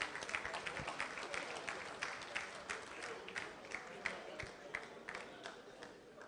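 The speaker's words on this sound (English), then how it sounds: "Round of applause, please." An audience at an end-of-year awards evening gives a round of applause, continuous moderate clapping from a fairly distant crowd, with faint murmuring underneath, lasting several seconds.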